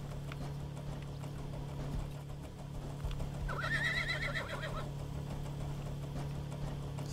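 A horse in the Rust video game gives a single whinny midway through, over a steady low hum and faint clatter of movement.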